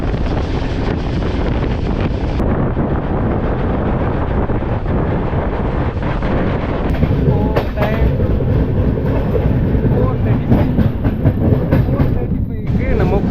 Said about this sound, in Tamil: உண்மையிலேயே ரொம்ப ரொம்ப சூப்பராக இருந்ததுங்க இந்த ட்ரெயின் ட்ராக் சவுண்டு